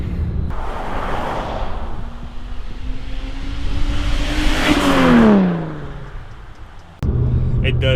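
Single turbo N54 straight-six car with a 3-inch resonated single exit exhaust, a loud rumbling pull that rises in pitch as it accelerates past, then fades before cutting to another close idle.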